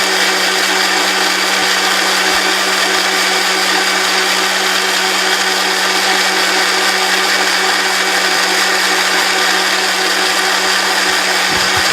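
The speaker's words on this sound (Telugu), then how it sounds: "ఇప్పుడు మిక్సీ తిప్పుతున్నాం, కాసుకోండి." A kitchen mixer grinder whirs continuously at full speed while blending ash gourd juice with green chilli and water, a loud, steady motor drone with no pauses.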